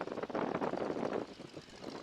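A Boeing Stearman biplane's loud, steady propeller-engine drone close by, rumbling and fluttering continuously with slight swells in intensity.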